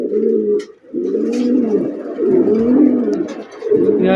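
Big pigeons at a pigeon farm coo in deep, rolling, repeated phrases, loud and close, several birds overlapping with short breaks between calls and faint chirps behind.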